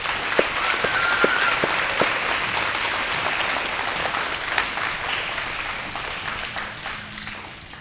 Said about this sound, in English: If y'all could give them a round of applause.